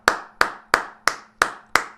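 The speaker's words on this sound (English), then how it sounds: "So I just got to clap to all y'all." A single person clapping hands, six sharp, evenly spaced claps close to the mic, each with a quick decaying ring, alone without talk.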